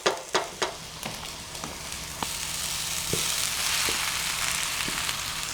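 Pasta frying in a small pan sizzles steadily and fills the space, opening with a few sharp clatters and occasional taps of stirring, with no talk.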